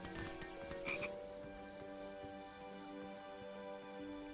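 Frogs croak in the video game King's Quest, a steady layered chorus of low rhythmic calls with a brief brighter burst near the start, continuing evenly throughout.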